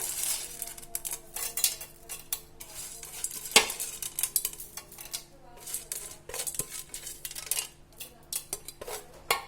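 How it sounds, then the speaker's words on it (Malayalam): Metal utensils scrape and clink against a pan in irregular strokes while stirring a sweet beaten rice mixture with roasted gram, with a faint sizzle underneath and occasional sharper knocks. "ഇനി നന്നായിട്ടൊന്ന് മിക്സ് ചെയ്ത് കൊടുക്കാം."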